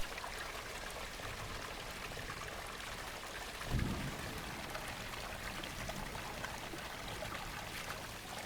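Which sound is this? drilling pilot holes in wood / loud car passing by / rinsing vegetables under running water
rinsing vegetables under running water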